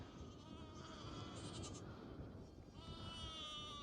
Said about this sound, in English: Ewes are all enjoying their wee sweeties.